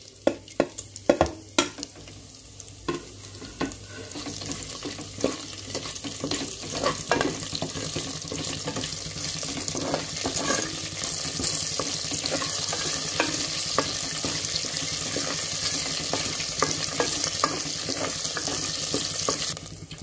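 Whole spices fry in oil (cinnamon, cardamom, cloves, black pepper, mace and shahjeera), starting with a few sharp pops and clatters, then settling into a dense, steady sizzle with occasional stirring taps.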